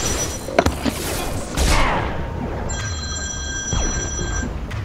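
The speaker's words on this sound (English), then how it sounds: "Hold on, I'm getting a phone call." A telephone rings with a bright, steady electronic tone that starts partway through and sustains, preceded by clattering thumps and mechanical noises amid game sounds.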